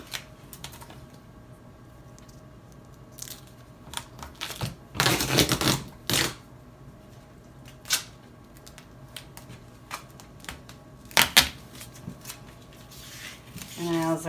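Duct tape is torn off a roll for winter sowing containers, with a couple of loud, rasping pulls amid quieter handling noises and light rustling.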